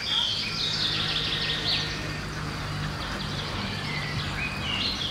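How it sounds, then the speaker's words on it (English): Several birds chirp and warble in overlapping bursts over a constant low outdoor hum, clear and fairly close. "Bird songs."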